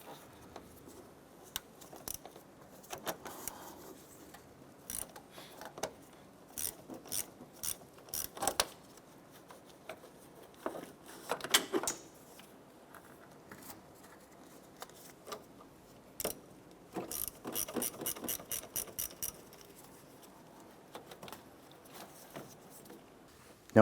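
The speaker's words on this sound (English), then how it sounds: "10mm socket and ratchet, we're going to go ahead and loosen and remove our battery terminals" A 10mm socket and ratchet work loose the battery terminals on a 2006-2013 Chevrolet Impala, giving quiet bursts of close, fast ratcheting clicks separated by pauses.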